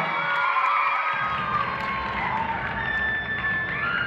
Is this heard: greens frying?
no